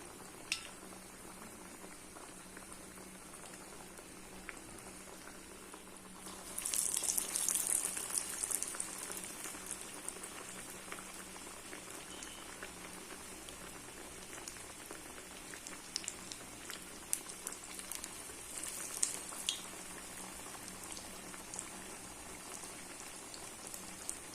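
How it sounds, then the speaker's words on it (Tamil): Green gram masala vada patties sizzling in hot oil over a medium flame, a steady crackling hiss that swells louder as the patty drops in, with no talk. "இப்போ நம்ம இந்த வடையை ஒன்று தட்டி போட்டுடலாம்."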